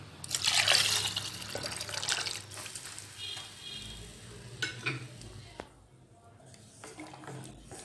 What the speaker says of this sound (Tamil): இப்போ இதில் தேவையான அளவு தண்ணி சேர்த்துக்கலாம்.